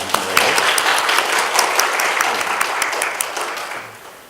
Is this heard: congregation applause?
yes